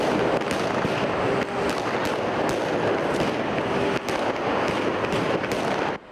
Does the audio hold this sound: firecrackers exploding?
yes